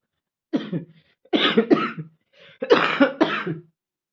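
Several loud, close coughs in groups from a person with a heavy cold, one short burst followed by two double coughs, with silence between them.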